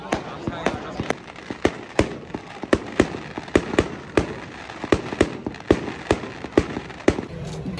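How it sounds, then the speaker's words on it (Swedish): Fireworks set off after the May bonfire at a Valborg celebration in Uppsala, with sharp firework bangs cracking out in an irregular rapid series over a steady crowd murmur. "Man skjuter fyrverkerier."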